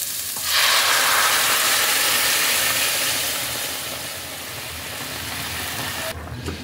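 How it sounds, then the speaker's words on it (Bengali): Boiled biuli dal poured into a pan of sautéed vegetables sets off a sudden loud, close sizzle that hisses steadily for several seconds, then eases slightly before stopping abruptly. "এবার আমি এর মধ্যে দিয়ে দিচ্ছি সিদ্ধ করে রাখা ডাল।"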